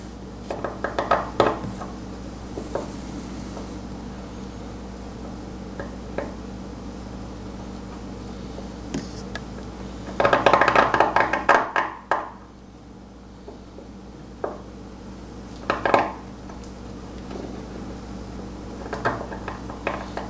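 A knife carves into a stone Chinese name seal in negative style, making scattered scraping and clicking strokes with a denser burst of scratching midway, close and fairly quiet, with no talk.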